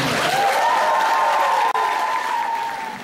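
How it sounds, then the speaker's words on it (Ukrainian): Sustained audience applause fills a hall at an arts festival, dense and steady clapping from a large crowd with a brief dip partway through, continuing alone and fading slightly at the end. "зустрічайте вихливими оплесками цих авторів"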